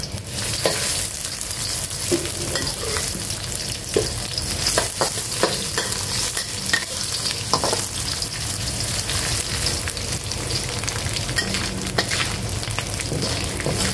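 Spices frying in hot oil: a loud, continuous sizzle with scraping stirs throughout, close by and without any speech.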